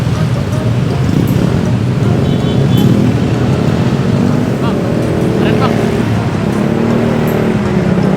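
Stop-and-go traffic jam with motorbikes: a loud, steady engine drone with a humming, slightly wavering pitch close by, and people talking over it.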